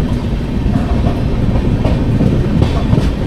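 The 12152 Samarsata Express rolls along rails on the Kolkata to Mumbai route, a steady loud rumble with rhythmic clickety-clack of wheels over joints throughout, no voices.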